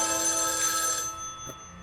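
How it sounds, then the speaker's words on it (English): Video game telephone ringing from the next room, a sustained bell-like ring that cuts off abruptly, followed by a faint brief knock, heard alone and fairly quiet. "Suddenly the phone from the next room rings."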